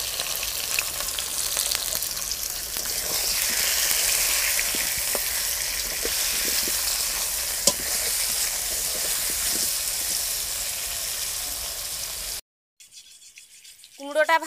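Pumpkin pieces sizzle steadily in hot oil in a pan, a constant dense frying hiss lasting about twelve seconds with a few small pops, then it cuts out and a brief quieter passage follows.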